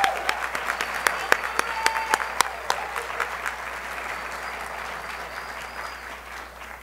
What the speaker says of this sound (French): Alors vraiment, mes applaudissements.